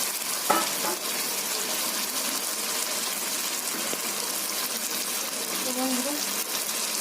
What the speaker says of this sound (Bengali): ভেজে রাখা আলুটা দিয়ে দিচ্ছি।